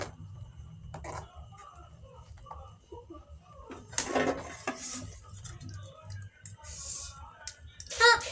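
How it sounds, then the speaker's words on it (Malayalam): A utensil clinks now and then against a pot of fish curry as it is stirred, then the lid is set down with a sharper clank near the end, while someone talks softly. "ഇനിയിപ്പോ നമുക്കിത് കുറച്ച് ഒന്ന് ഇളക്കിയിട്ട് മൂടി വയ്ക്കാം"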